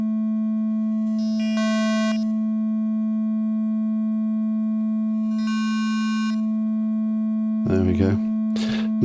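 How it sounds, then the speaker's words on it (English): Steady pure sine-wave tones run through a disting mk3 bit crusher, with gritty harmonic bursts that fade in and out twice, then brief chirpy digital blips near the end. "Let's just do it on a sine wave for comparison."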